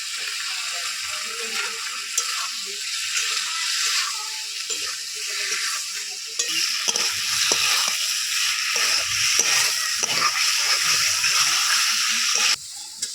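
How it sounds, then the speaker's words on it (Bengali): Fried potol and potatoes are turned with spices in a hot pan, giving a continuous close sizzle. Scraping stirring strokes come and go in the second half. "মশলার সঙ্গে আলু আর পটল কিছুক্ষণ নাড়াচাড়া করে নিয়েছি"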